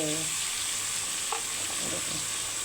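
Tomatoes with salt get stirred and mixed in a frying pan, a soft continuous sizzle with faint scraping movements and no talk.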